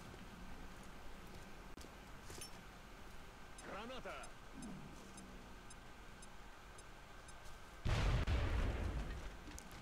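A grenade goes off in the turn-based strategy game XCOM Long War, one loud broadband blast late in the moment that lingers as a rumbling decay, preceded by quieter game effects and a short spoken phrase.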